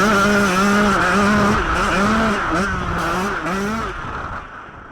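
A 125cc dirt bike rides a private practice track, its engine revving loud and near with rising and falling pitch as it shifts and accelerates, then fading away toward the end.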